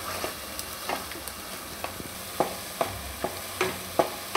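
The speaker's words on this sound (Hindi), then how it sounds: "ये टमाटर को तेल में इस तरह है सोते करना थोड़ी देर के लिए।" Tomatoes sauté in hot oil for palak paneer, a soft continuous sizzle broken by repeated sharp scraping clicks of a spoon stirring the pan, close up with no talking.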